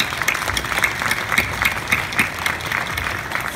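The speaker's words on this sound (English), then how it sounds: "Big round of applause for Brooke, our designer." An audience at a Glowforge demo at Maker Faire 2016 claps steadily, a sustained wash of applause from a room full of people without any voices.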